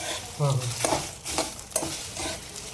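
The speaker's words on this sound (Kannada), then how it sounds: "ಲೋ ಫ್ಲೇಮಲ್ಲಿ ಅದನ್ನು ಹುರ್ಕೊಬೇಕು" Masala stir-fries on a low flame for country chicken sambar, with repeated scraping strokes of a spatula against the pan over a soft, steady sizzle, close and fairly quiet.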